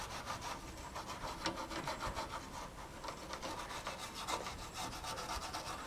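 Someone scrubs a part from a 1991 Packard Bell Legend 386X computer during a restoration, making a fast, rhythmic brushing rasp up close that goes on steadily, with no talking.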